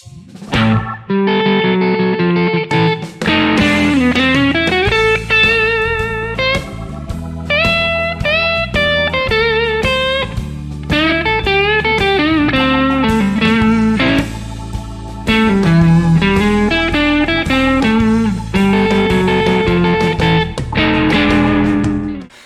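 An electric guitar plays a bluesy riff with a distorted, effected tone, steady and loud throughout, bending notes over a repeating pattern, no voices.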